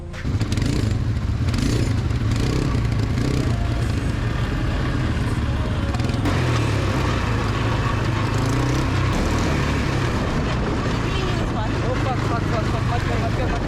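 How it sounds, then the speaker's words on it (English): An ATV engine runs steadily through a ride in Bali, a loud, continuous low drone with rattles and clatter from the vehicle, staying near and constant throughout. "We are ready for ATV. Let's go."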